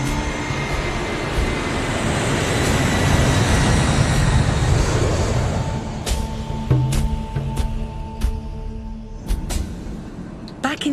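Steady airliner engine roar in flight from Dubai to Sydney, a dense continuous cabin rumble filling the first half, then easing to a lower drone with occasional clicks and knocks.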